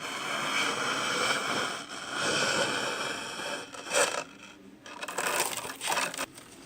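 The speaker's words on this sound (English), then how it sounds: "then you can begin to draw that slither through and it will turn it into the string" A plastic bottle strip pulled through a bottle cutter blade, a continuous close rasping, crinkling scrape with uneven pulses and short pauses as the strip is drawn along.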